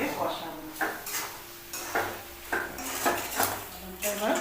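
A metal spoon scrapes and clatters against a pan while a soybean chop mixture with cumin and chili powder is stir-fried, in repeated rhythmic strokes at close range.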